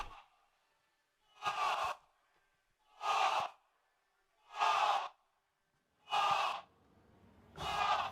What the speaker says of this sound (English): You can hear the crowd chanting through the fucking Astro mics, bro.